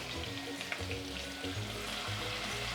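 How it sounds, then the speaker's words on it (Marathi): Garlic and ginger hit hot oil and fry with a close, steady crackling sizzle that runs without pause, with no voices. "तेल तापलं आहे छानपैकी आता आपण लसूण टाकूया आलं टाकू"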